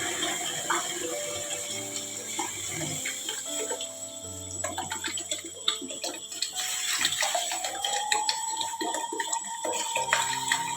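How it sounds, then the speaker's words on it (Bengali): Water poured into a pot of fried mung dal, a running splashing pour with clinks and rattles of kitchen utensils, close and fairly soft, continuing for about ten seconds without talk. "চলুন জলটা ঢেলে দিই এবার।"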